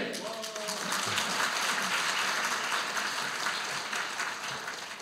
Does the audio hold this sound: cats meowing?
no